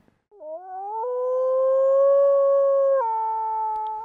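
A single long, steady howl, in the wild, rising at the start and holding for about three seconds before stepping down slightly, clear and alone against silence; it may be a person imitating a wild dog's call.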